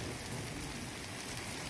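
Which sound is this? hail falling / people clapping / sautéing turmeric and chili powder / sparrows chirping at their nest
hail falling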